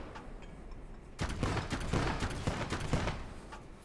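Gunfire crackles in the Gates of Hell: Ostfront war game on the Farmstead map: a quiet lull, then a sudden run of rapid, overlapping shots that keeps rattling at moderate distance.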